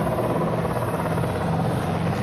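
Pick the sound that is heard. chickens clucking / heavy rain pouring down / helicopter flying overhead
helicopter flying overhead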